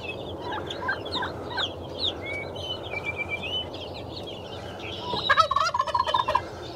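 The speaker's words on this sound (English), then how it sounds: "Yes, Mr. Turkey, everybody hears you" A turkey gobbles loudly and rattles nearby, with other birds chirping and calling steadily in the background.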